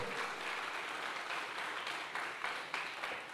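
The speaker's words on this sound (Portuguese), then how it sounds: "Aplauda o Senhor, aleluias." A church congregation applauds during a sermon, a steady wash of clapping hands that carries evenly through the clip at moderate level.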